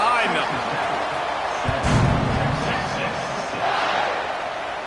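A football stadium crowd roars steadily throughout, swelling briefly in the middle as play resumes after a blocked extra point, loud and continuous with no clear voices on top.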